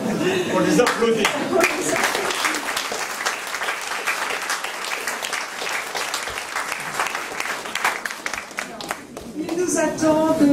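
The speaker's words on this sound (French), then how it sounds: "On les applaudit." Audience at a maritime book fair applauding, a sustained wash of many hands clapping at steady loudness, with voices rising over it at the start and end.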